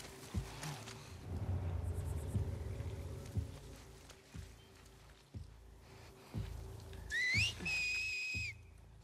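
Seraphite signal whistles in The Last of Us Part 2 are heard as two sharp, rising-then-level whistled calls near the end. Before them come rustling footsteps, a low hum and a distant faint whistle.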